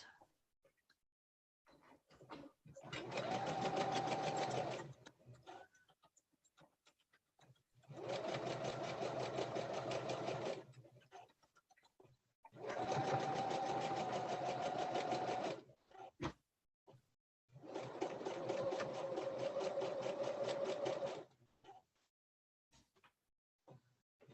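A sewing machine runs in four steady, even bursts of about three seconds each, with short quiet pauses between them. It sounds fairly close at a moderate level, and there is no talk over it.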